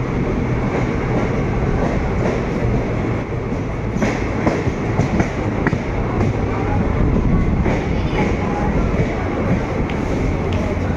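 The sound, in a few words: train arriving at a railway junction station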